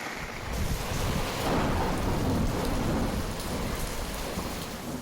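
Heavy rain pours down over Rajasthan with thunder rolling through it, a loud, dense, continuous downpour with deep rumbling, no voices.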